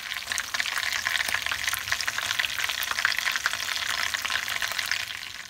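Breaded pollock fillets frying in hot oil, a dense continuous sizzle with crackling pops, fairly close and steady throughout.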